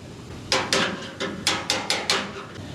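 A folded, wavy scrap-metal shim is slid and tapped into a gap on a custom van-truck build, giving a series of about eight sharp, close metallic knocks in an uneven rhythm over faint background hum.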